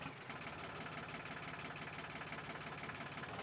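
A defective tractor's engine runs steadily at a low idle, with a dense, even drone and a faint knocking pulse throughout, loud and close with no voices.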